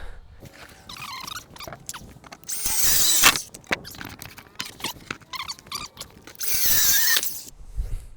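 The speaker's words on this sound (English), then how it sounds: "Now that we've got this clamp on there, we can go to cutting." A power tool cutting wood for a beekeeping template, with the piece clamped in place, comes in two loud bursts of whining cut. Quieter squeaks, shuffles and handling sounds fill the gaps between them.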